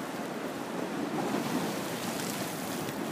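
Choppy waves and gusting wind on the Volga river at Tolyatti on a stormy October day, a continuous broadband roar of surf mixed with wind buffeting the microphone, with no voices.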